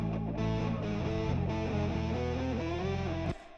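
A bass line pitched up and thickened with heavy distortion and stacked effects in Ableton 11, playing a dense, buzzing riff with shifting notes that cuts off near the end, no voices present.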